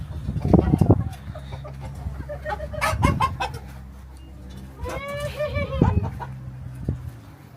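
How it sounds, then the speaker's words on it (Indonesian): Several Kukuk Balenggek chickens cluck and call close by in bursts, with one long drawn-out crowing call near the end and brief quiet gaps between. "Ayam kuku balengge."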